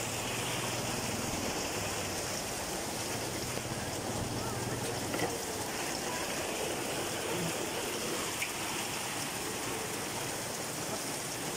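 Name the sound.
heavy rain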